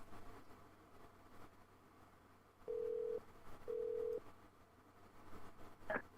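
A telephone line for a casino operator gives two steady electronic tones, one after another, over faint line hiss, with a short blip at the end.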